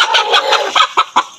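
An Aseel rooster of Sindhi breed clucks several times in short, throaty bursts, close and fairly loud, with the calls coming faster toward the end.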